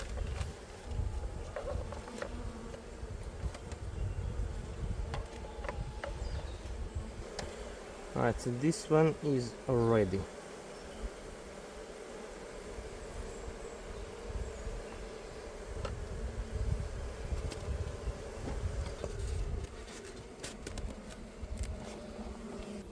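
A steady honey bee buzz drones throughout, like bees swarming nearby, with a brief rising and falling whine midway and a short spoken remark.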